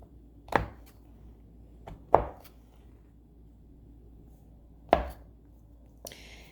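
A knife chopping through crumbly wax, four sharp separate strikes spaced unevenly and close up, with quiet gaps in between and no talking.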